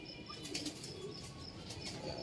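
Pigeons released from a loft flap their wings in a quick burst of fluttering, faint and somewhat distant, with soft rhythmic wingbeats over outdoor background noise.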